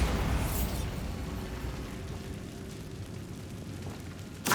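A Bombarda blasting spell from Hogwarts Legacy bursts with a loud, dense explosion at the start, then settles into a long, rumbling low-end tail, and a second sharp burst lands right at the end.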